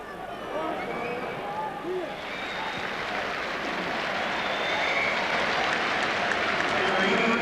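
A rugby crowd at a 1995 Cardiff versus Swansea match applauds at half-time, a broad wash of clapping and cheering that swells gradually, with a commentator's voice running over it.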